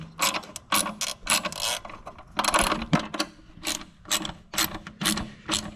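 A ratchet tightens a bolt on the three-point linkage of a John Deere 4020 tractor, giving loud, close bursts of rapid clicking in short strokes separated by brief pauses.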